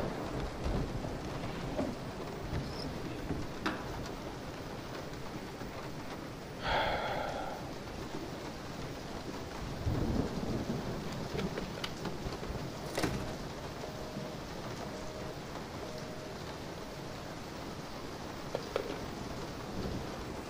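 Steady rain from a Resident Evil 7 video game scene fills the whole stretch, with a low thunder rumble rolling through near the middle and a few sharper cracks and knocks scattered across it.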